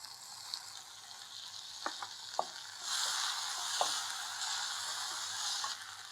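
Onions frying golden brown in a pan for curry leaf soup, a steady hissing sizzle that swells louder partway through, punctuated by a few sharp clicks of a spoon stirring against the pan.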